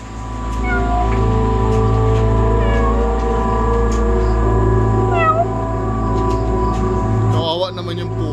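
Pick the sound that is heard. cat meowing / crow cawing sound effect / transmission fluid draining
cat meowing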